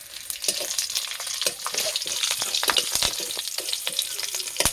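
A green chili frying in hot oil with nigella seeds and bay leaves, a loud, close, dense crackling sizzle with sharp pops and spatters, continuous throughout with no talking.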